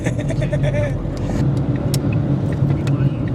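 Interior drone of a car being driven, a steady engine and road rumble, with people chatting over it and a few sharp knocks and clicks.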